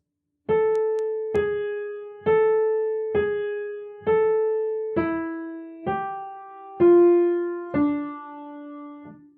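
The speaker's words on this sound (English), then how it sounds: "Let's try the opening phrase of Für Elise." Piano notes play the opening phrase of Beethoven's Für Elise, nine single notes at a slow, even beginner's pace, each ringing clearly and decaying before the next.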